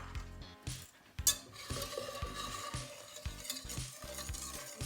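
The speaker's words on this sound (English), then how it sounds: "we are going to whisk together our whole milk, the rest of our sugar, and our skim milk powder" Whole milk, sugar and skim milk powder being whisked in a saucepan for rocky road ice cream, a quick rhythmic tapping and scraping of the whisk against the pan, close and fairly quiet, without speech.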